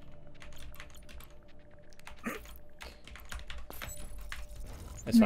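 Computer keyboard keys clatter in quick, uneven bursts during a GTFO gaming session, with people talking over the typing.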